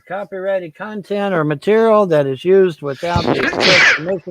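One sharp sneeze bursts out loud and close, right after a stretch of steady talking, with speech resuming just after it.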